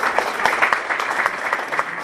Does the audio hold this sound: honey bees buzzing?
no